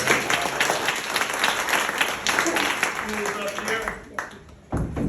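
An audience breaks into loud, sustained applause, the clapping thinning toward the end before a final burst.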